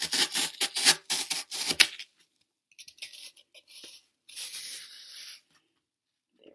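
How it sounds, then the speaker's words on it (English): Dry rubbing and rasping strokes of a blade cutting a piece of floral foam down to fit inside a mug, quick close scrapes at first, then quieter intermittent scratches and a longer brushing sound. "So you're going to want to cut your foam piece down to fit in the mug."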